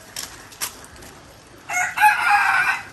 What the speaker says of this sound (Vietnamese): Ở đây anh nuôi gà này